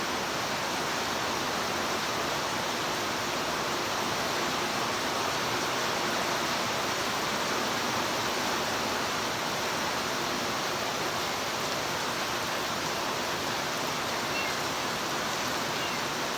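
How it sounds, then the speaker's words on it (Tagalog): Heavy rain falls on a rainy morning in a dense, unbroken hiss, steady and even from start to finish with no voices. "Maulan na umaga. Ang lakas."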